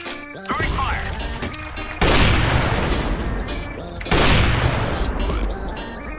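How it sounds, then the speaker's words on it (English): Grenade, smoke and fire throws in Counter-Strike: Global Offensive, with two loud bursts erupting one after another amid continuous game noise. "Throwing smoke. Throwing grenade. Throwing fire."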